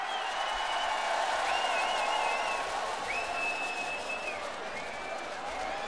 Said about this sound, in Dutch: Dames en heren, geef ze een groot applaus.